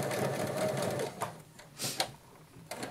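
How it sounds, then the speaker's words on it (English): A sewing machine stitches in short bursts, starting and stopping with a near motor whir, while someone crafts tags. "no matter what sewing machine I have, you have to go slow"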